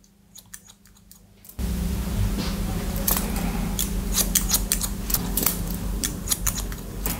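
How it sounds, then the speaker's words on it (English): Scissors snip through medium-length wavy hair during a haircut, a few quick dry cuts heard close up against a noisy background, the crisp snips repeating irregularly. "I'm just going to cut a bit off, just to take it down to kind of a more uniform length."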